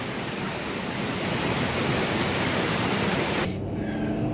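Water runs off a hill with a steady, dense rushing hiss, close and fairly loud, that cuts off abruptly near the end.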